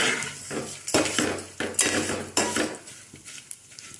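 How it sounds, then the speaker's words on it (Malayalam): Vermicelli stirred in ghee over a low flame, a metal spoon scraping and knocking against the pan in repeated close clanks and scrapes over a soft frying hiss, with no voices. "ചെറിയ തീയിലിട്ട് ഇളക്കിയെടുക്കണേ."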